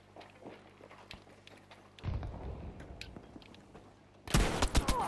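Gunfire rattles in Battlefield V: faint distant shots and footsteps at first, then a closer burst of firing, and a loud, harsh volley near the end.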